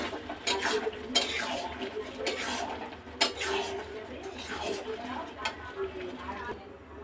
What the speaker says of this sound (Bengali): এবার এগুলো মশলার সাথে ভালো মতন একটু কষিয়ে নেব